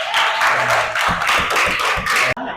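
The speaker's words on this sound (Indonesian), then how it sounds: "Tepuk tangan buat Akbar." A classroom of students applauds a student named Akbar during a lesson, a dense burst of clapping lasting a couple of seconds before it cuts off abruptly near the end.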